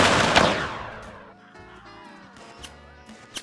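A musket volley in Mount & Blade: Warband's Civil War mod, one loud booming crack opening the moment and decaying over about a second, followed by quieter scattered pops and background game tones.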